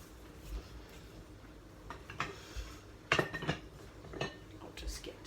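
Spoon taken amid kitchen cutlery clinks, a few light metallic taps and rattles over faint background noise, close by, with no talk.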